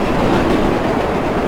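A New York subway train on the Flushing Line 7 in the World of Subways 4 video game rolls past as a loud, continuous broadband rumble and rush with no pauses.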